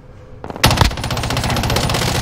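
Video game gunfire: after a quiet moment, a rapid automatic burst of shots rattles out loud and close, continuing as a steady stream of fire to the end.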